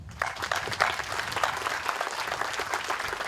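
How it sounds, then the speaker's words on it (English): Final round of applause from the audience at a Royal Military College Wall of Honour ceremony, steady close clapping with individual hand claps standing out, sustained at an even level throughout. "Please join me for one final round of applause."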